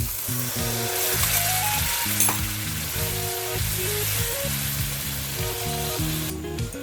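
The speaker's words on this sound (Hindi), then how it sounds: "ये जो मिक्सर में हमने मसाला पीसा था, ये वेस्ट नहीं करने का, इसका ही पानी हम डाल देते हैं।" Ground masala water from the mixer hits hot oil for egg curry and sizzles loudly and steadily throughout, while a soft musical backing plays underneath.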